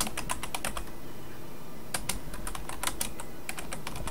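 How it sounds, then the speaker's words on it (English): Fingers type on a computer keyboard in quick irregular bursts of clicking keystrokes, close and clear, with brief pauses between runs. "You can just type in here and add notes."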